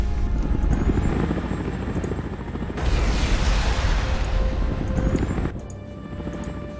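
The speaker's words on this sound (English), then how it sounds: "veteran choppers are actually just incredibly difficult to do anything about" Attack helicopters in the Shattered Union strategy game give a loud, continuous rotor roar. The din swells with a burst of explosive, noisy rumble partway through and then eases back to a steady drone.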